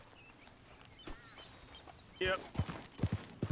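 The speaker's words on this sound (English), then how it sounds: "My dream, ride horses on railroad tracks." Horse hooves clop on railroad tracks in Red Dead Redemption 2, a few uneven thuds growing louder toward the end amid game sounds, with someone speaking briefly.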